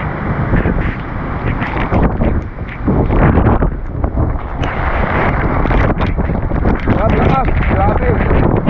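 Strong typhoon wind roars and buffets the microphone near a rising river in San Roque, a constant loud rushing blast with gusty surges throughout.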